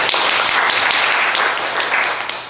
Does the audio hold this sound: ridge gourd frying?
no